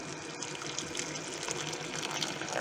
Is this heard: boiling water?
yes